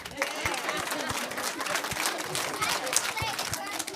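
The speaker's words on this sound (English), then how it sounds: "Just clap for me" Elementary school children clapping and applauding during a read-aloud session, a dense, steady patter of many hands mixed with crowd murmur and voices for several seconds.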